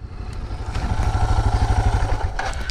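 Suzuki DR650 dual-sport motorcycle engine running while riding, a steady mid-pitched thump that builds slightly and holds loud and close throughout, with wind noise and no talking.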